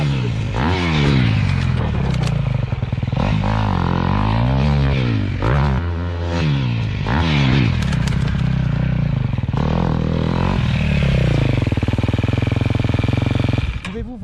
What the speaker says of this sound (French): Je vais juste tirer sur l'embrayage et faire un énorme dérapage.